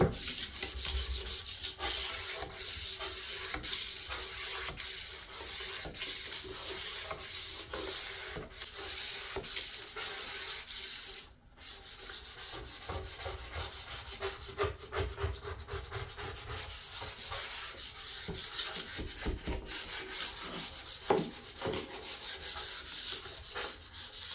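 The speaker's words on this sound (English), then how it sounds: "when I'm using metal sponge, of course that can scrub down the grease, but it's easier with scraper, easier and faster" A scraper scrubs grease off a surface during a home clean-up, a long steady abrasive rasping with a quick rhythmic back-and-forth texture and one short pause midway.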